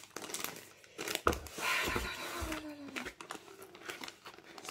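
Paper crinkles and rustles up close in irregular handling bursts, fairly quiet, with a few sharper crackles and no talking.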